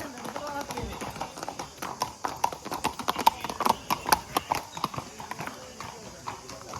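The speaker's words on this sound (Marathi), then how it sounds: "हे बघा घोडे वगैरे चाललेत" Horses walk along a road at Matheran hill station, their hooves clip-clopping in an uneven, steady rhythm at close to middle distance while people talk nearby.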